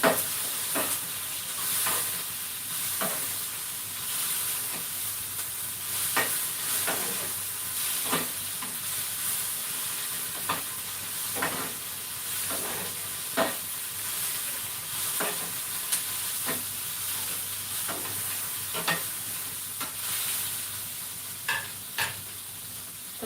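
Spice masala for a paneer masala dish roasts in a pan over a low flame, with a soft continuous sizzle broken by regular spatula scrapes and stirs about every second or two. Nobody speaks.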